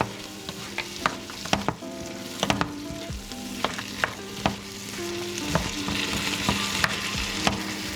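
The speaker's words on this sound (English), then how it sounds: "Stir it together." Corn tumbles and sizzles as it is stirred into softening vegetables in a hot pan, with steady frying crackle and intermittent spoon scrapes and knocks against the pan, no voices.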